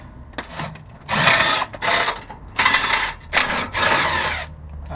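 An impact screw gun drives out a bolt during a front swaybar and cross member job, firing in four or five loud hammering bursts of about half a second each, separated by brief pauses, close up.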